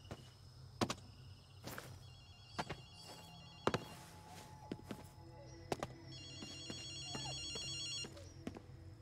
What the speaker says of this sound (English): Hey, Akito, you hear a phone ringing?